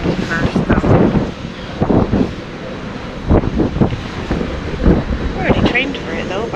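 Wind blowing over the sea near Antarctica, buffeting the microphone in loud gusty rumbles, with people talking over it throughout.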